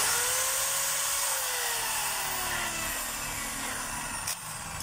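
A DeWalt DWD024 hammer drill runs steadily after a carbon brush replacement, a loud continuous whine with a pitch that sags slightly as it spins, heard alone and close up.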